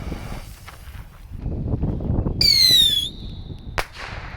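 Daytime fireworks go off outdoors, with scattered pops and crackles and then a loud rising whistle that ends in a sharp bang.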